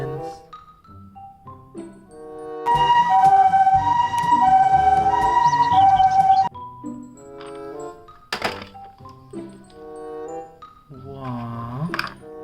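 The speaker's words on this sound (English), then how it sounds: "Oh, police ambulance." A toy police ambulance siren wails loudly for several seconds. A person talks before and after it, with short toy beeps and tones around the talk.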